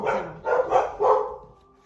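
Dogs bark close by in three quick, loud barks that trail off into quiet.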